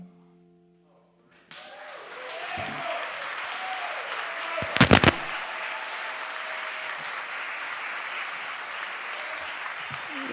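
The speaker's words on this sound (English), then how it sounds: "One more round of applause" A large audience applauds after a live performance in Rochester, steady dense clapping that swells and holds for several seconds after a brief quiet start, with a few louder thumps midway.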